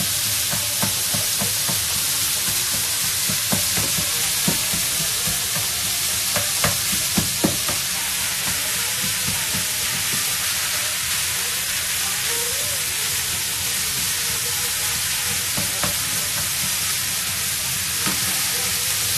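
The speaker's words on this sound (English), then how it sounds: "And I'm just going to cook this like I would ground beef. So You want to chop it up with a spatula." Vegan wonton filling fries steadily in a pan while a spatula chops and scrapes through it, giving a constant loud sizzle with scattered clicks and knocks throughout.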